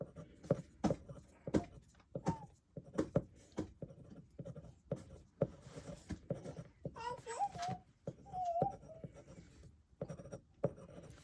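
A dip pen nib scratching brown ink across paper in quick, close strokes, sharp and distinct, with a voice speaking softly in between.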